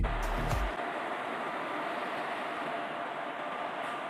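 A train in the Indian Train Crossing 3D simulator game: a steady rolling rumble of rail travel, opening with a brief low thump and then holding at an even level, with no voices.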